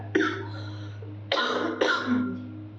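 Three harsh coughs from smoke, one brief burst followed by a pause and then two close together, loud and near with no talking.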